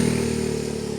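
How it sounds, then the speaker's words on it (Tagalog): A motorcycle engine runs with a steady, throbbing idle in an abandoned residential area, loud and close with no pauses. "mayroon pang mga motor dito"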